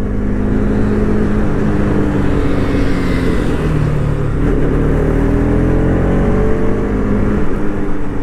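Two KTM motorcycles, an RS 200 and an RC 200, engines droning loud and steady through a long drag run, with rising whine as they accelerate and no voices over the roar.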